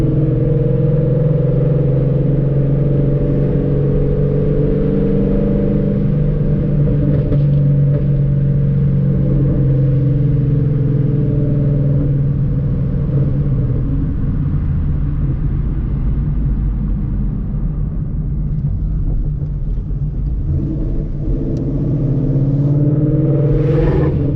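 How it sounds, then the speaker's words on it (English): A Ford Mustang S197 V8 rumbles loud and close, with deep exhaust burbles as it goes through several downshifts, the pitch dropping and rising over steady driving noise. "downshifts are so nice, guys. I love them. They sound so good out here."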